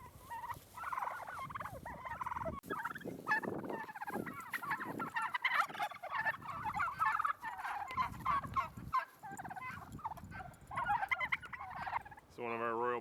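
A Royal Palm turkey, likely a hen, gives repeated rattling gobbles and calls close by on a farm, in busy bursts throughout with short pauses between them.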